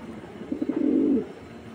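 A racing pigeon coos once from close by, a soft throaty warble of rapid pulses that swells into a rolling hum for under a second, set against a quiet room.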